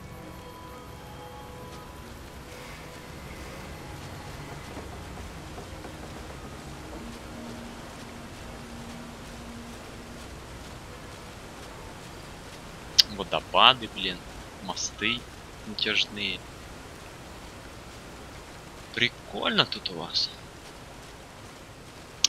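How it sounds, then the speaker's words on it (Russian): Rain falls in the video game Fallout: New Vegas, a soft, constant hiss running steadily in the background while someone talks over it in short bursts. "Только дождь этот мерзкий постоянно идет."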